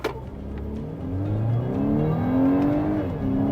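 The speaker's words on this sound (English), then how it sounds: "It doesn't have that usual loud, buzzy sound you hear in a lot of 2-liter turbocharged engines." A 2024 Volkswagen Atlas SUV's turbocharged 2-liter engine pulls from a stop and accelerates smoothly, its rising whir climbing through gear changes, steady and close with no talking.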